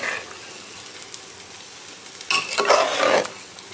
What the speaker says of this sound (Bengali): এই চালটা আমি তো ভাজি করতেছি